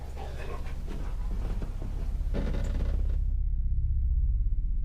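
A dog pants steadily and close by, its quick rhythmic breaths running through the whole stretch, with a low rumble underneath and no talking.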